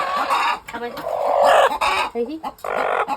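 Broody country hens clucking close by, a steady run of soft repeated clucks and low grumbles with a few louder calls, continuing for a few seconds.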